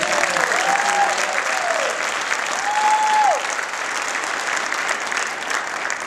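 A church congregation claps for the new high school pastors, a dense, sustained round of applause filling the room and tapering slightly toward the end.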